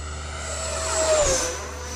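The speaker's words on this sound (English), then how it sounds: "All right, let's do a fast pass." An E-Flite Viper 90mm RC jet makes a fast pass, its ducted-fan whine swelling as it approaches, peaking with a falling Doppler pitch as it rushes close by, then fading away.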